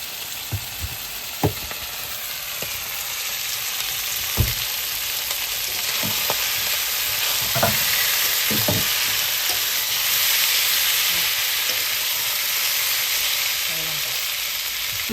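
Potatoes frying in a pan of hot oil, a steady broadband sizzle running throughout with occasional sharper pops and stirring knocks, close and moderately loud.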